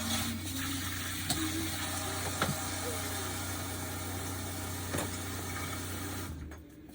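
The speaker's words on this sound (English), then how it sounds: "while you sift it, I'm gonna rinse the bowl" Running water pours steadily over a bowl being rinsed in a home kitchen, a constant rushing hiss with a low hum beneath and a few small knocks, ending abruptly as the flow stops.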